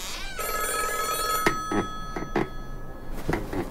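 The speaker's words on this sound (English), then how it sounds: "It was a hardline phone, an old one, black, with a rotary dial rather than a keypad." An old black rotary-dial landline telephone rings with a bright, steady metallic bell tone, followed by several short, loud ring bursts in quick succession, with no voices.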